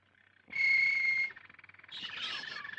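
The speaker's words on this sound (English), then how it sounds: "I want a nice singing canary." A canary in a bird shop sings clearly: first a sustained bright whistle, then a rapid, softer trill that rises into a busier chirping.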